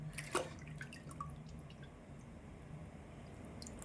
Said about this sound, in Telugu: ఒకటికి రెండు సార్లు శుభ్రంగా కడుగుదామండి